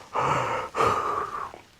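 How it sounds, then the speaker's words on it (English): A person fakes a big exaggerated yawn with a stretch, arms crossing overhead: a long breathy inhale followed by a drawn-out voiced exhale, close and fairly loud, with no other talk. "fake a yawn with a big stretch that crosses your arms over your head, a bit like this."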